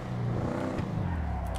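A car engine in GTA 5 Online drones and revs steadily at close range, a rising harmonic whine throughout the short stretch.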